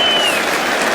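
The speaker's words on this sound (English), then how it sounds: "Hear the crowd?" A packed Headingley cricket crowd roars and applauds during an England v India Test match as the total reaches 400 on a no ball. Dense, sustained cheering and clapping fill the whole moment at steady volume.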